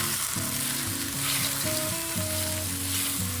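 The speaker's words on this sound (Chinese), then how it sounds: "倒入沥干水分的豆腐，浇入2汤匙米酒" Drained tofu poured into a hot pan with rice wine sizzles loudly and continuously, close and steady, with stirring noise and no talking.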